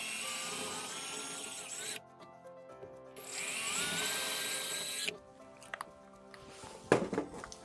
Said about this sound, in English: I'll start by drilling small pilot holes for the wall anchors